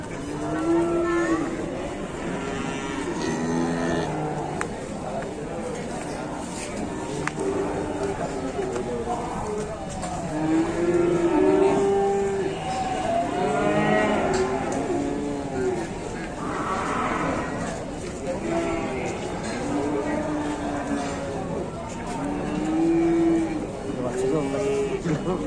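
A super jumbo cow lows several times at a cattle market, deep drawn-out moos repeating through the clip under ongoing talk and crowd noise.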